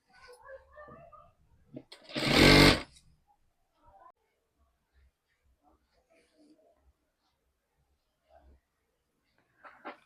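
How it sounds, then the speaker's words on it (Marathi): A sewing machine stitches tucks on a blouse in one short, loud whirring run of about half a second, with faint voices and small handling noises before and after. "आता होते ते आपल्याला शिलाई मारायची आणि टक्स मारून घ्यायचे"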